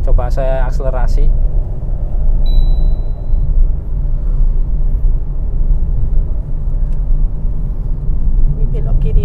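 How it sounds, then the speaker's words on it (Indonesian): Low, steady engine rumble of a family car speeding up on a concrete road, heard from inside, with road noise throughout and a brief voice at the start. "Ini coba saya akselerasi."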